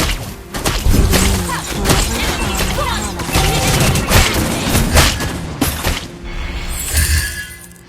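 In a Mobile Legends battle, a turret comes under attack amid a dense, loud barrage of booms, thuds and rapid impact bursts, with a brief quieter stretch near the end.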